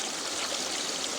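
Excess water from a flushed pond filter drum, gushing and splashing in a steady, close, unbroken rush of white noise, with no voices.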